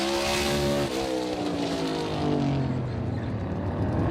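NASCAR race car circling the Coliseum track in practice with a smoking left front tire, its engine a loud steady roar with harmonic pitch sweeps as it accelerates and shifts, continuous throughout.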